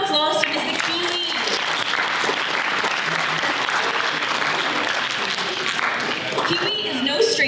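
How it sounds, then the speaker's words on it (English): Audience at an inventors' talk giving a speaker a sustained round of applause, dense and even from start to finish, with voices mixed into the clapping. "let's give another round of applause to Mr."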